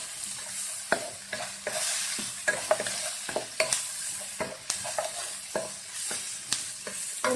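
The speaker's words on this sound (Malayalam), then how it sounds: "ഉള്ളി ഒത്തിരി വഴന്ന് പോകണ്ട. ഒന്ന് ചെറുതായിട്ടൊന്ന് വാടി കിട്ടിയാൽ മതി." Onions for sambar sauté in a pan, crackling softly under a continuous sizzle while a spoon scrapes and taps the pan in an irregular rhythm.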